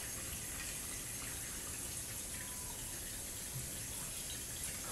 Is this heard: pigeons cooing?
no